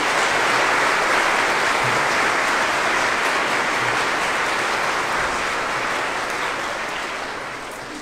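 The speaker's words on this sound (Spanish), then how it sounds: "Demos a Dios un aplauso por él." A church congregation applauds a deacon at a Sunday Mass, a steady, dense wash of clapping that holds loud and even throughout and tapers slightly toward the end, with no voices over it.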